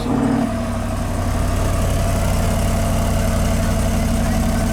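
A Jeep Wrangler Rubicon 392 V8 with four exhaust tips idles nearby, a loud, steady low rumble with a slight drop in level early on, with no voices.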